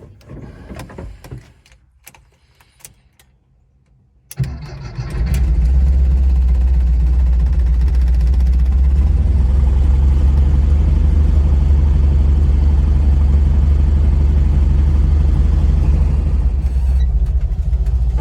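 A VW Bus engine with Pertronix ignition cranks briefly and catches, then settles into a loud, steady, close idle that runs on without a break.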